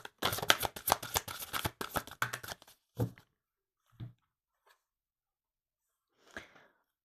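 Oracle cards are shuffled by hand in quick, dense riffling bursts for about three seconds, then a few isolated soft card slaps and shuffles follow, close and clear in a quiet room.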